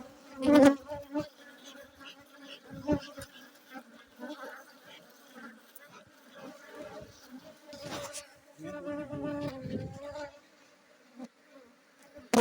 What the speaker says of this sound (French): on ouvre la ruche et on va commencer l'inspection